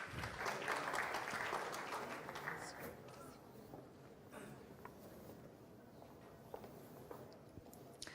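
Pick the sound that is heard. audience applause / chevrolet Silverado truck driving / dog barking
audience applause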